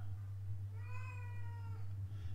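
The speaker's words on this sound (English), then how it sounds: "And there go the kitty cats." A cat gives a single clear meow of about a second, fairly faint against a steady low electrical hum in an indoor room, with no voices.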